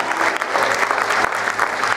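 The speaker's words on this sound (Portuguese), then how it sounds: "dê um grito de glória a Deus, uma salva de palmas ao Senhor" A church congregation applauds together at a Portuguese-language evangelical service, dense steady clapping that holds loud and even for two seconds, with faint voices mixed in.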